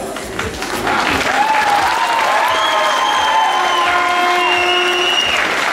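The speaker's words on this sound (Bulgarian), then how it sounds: "Аплодисменти за Деси." Audience applause for a contestant at a rose queen pageant in Karlovo, building after a brief quiet start into sustained loud clapping with some higher tonal sounds over it.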